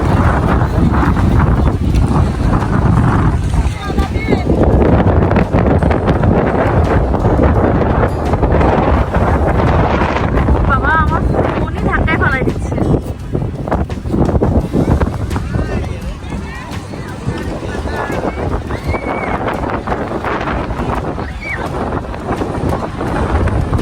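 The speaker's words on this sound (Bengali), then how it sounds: "অনেক বেশি বাতাস ছিল সেখানে।" Strong gusts at Sugandha beach in Cox's Bazar buffet the microphone in loud, ragged bursts, with surf washing in the background and voices heard faintly under the roar.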